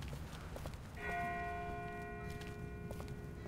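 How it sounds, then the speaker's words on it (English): A distant bell in The Walking Dead video game rings out once at about one second, its tone hanging and fading slowly over a steady low ambient rumble, with no talk. "That's not the same bell as before. This one's further off."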